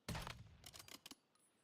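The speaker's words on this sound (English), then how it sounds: "Alright, one shot with the explosion from fairly close" A gunshot with an explosion effect in the survival shooter Once Human, fired from fairly close: a sharp loud blast followed by a rattling burst of crackling impacts that fades within a second.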